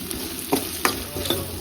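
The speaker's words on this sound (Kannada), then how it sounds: "ಮೆಣಸಿನ್ಕಾಯಿ ಮತ್ತು ಈರುಳ್ಳಿ ಮಾಡಿಟ್ಕೊಂಡಿದ್ದೆ ಅಲ್ವಾ, ಸೊ ಅಷ್ಟನ್ನು ಹಾಕಿ ಸ್ವಲ್ಪ ಫ್ರೈ ಮಾಡ್ಕೊಬೇಕು" Chillies and onions are fried in a pan, a steady sizzle broken by three or four brief scraping stirs, close and moderately loud, with no talking.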